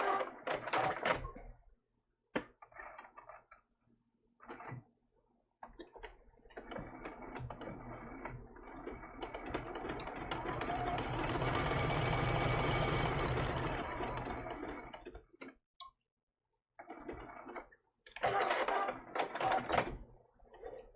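A sewing machine stitches a baby turtle applique, its motor whirring in short bursts early on, then running in one long steady stretch before stopping and starting again in brief runs near the end.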